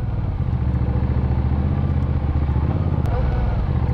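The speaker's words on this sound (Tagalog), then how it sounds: "Mas tigre yung tunog ng pipe nito kaysa doon sa isa." A Benda Napoleon 450 V-twin bobber motorcycle idles loudly up close with a deep, lumpy, pulsing exhaust rumble. A voice speaks briefly over it.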